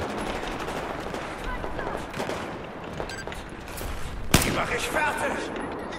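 Sustained rattling automatic gunfire during a Battlefield 4 campaign cover fight, dense and continuous, with a single loud, sharp shot cutting through partway, under faint background voices.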